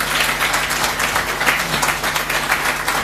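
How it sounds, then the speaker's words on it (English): Applause for family members standing to be recognized at a commemoration of the Mavoko 3, a steady, even wash of clapping from a gathered audience with a faint hum underneath. "A clap for them."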